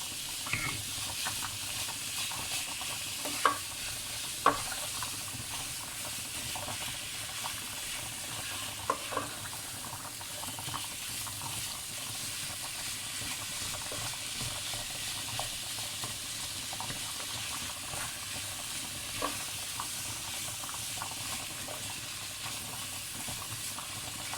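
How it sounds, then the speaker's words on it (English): Minced meat fries in a pan for a potato curry while being stirred and broken up, giving a steady low sizzle with occasional soft scrapes and knocks of the spoon throughout. "give the mince a good stir up"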